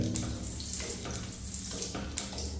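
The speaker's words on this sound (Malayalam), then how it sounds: "ഒരു നല്ല ഫോഴ്സിൽ വെള്ളം വരുന്നുണ്ട്" A repaired toilet hand shower sprays water at strong force, making a continuous, close, hissing rush with small fluctuations and no talking.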